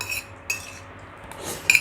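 Soft clinks of a spoon and fork against a bowl while bakso is eaten, a few sparse metallic taps that are close and fairly faint, with no talking.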